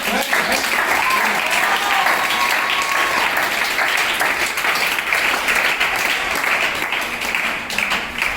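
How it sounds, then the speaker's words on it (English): A crowd at an education event claps loudly and continuously for several seconds, with a voice faintly audible beneath the applause. "Clapping, clap."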